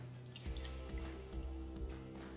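Warm au jus poured from a container into a bowl, a short close liquid pour with soft splashing drips and a squishy trickle, quiet and alone with no talk.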